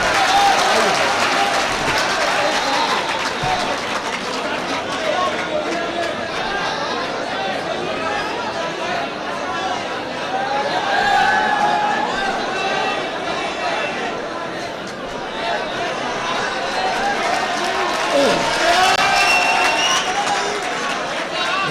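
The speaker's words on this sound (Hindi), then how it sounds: "तालियां बजा दीजिए ना एक बार।" Mushaira audience applauding in a hall, a steady wash of many hands clapping with crowd chatter mixed in, continuous and fairly loud for the whole stretch.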